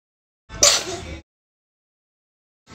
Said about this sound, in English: Did you sneeze in there?